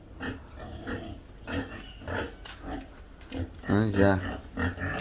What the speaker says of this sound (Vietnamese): Lợn đây.